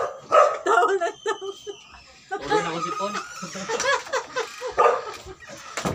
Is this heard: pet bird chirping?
no